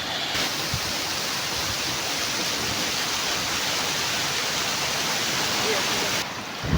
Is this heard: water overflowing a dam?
yes